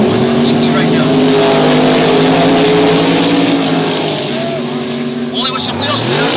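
An offroad race car's engine roars loud and close as its wheels spin, with a high, strained revving whine and gritty rumble that eases toward the end.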